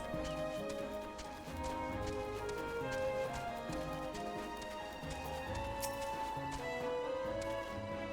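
Chocobo footsteps in Final Fantasy XIV patter in a quick, steady clip-clop rhythm under layered game music, moderately loud and continuous throughout.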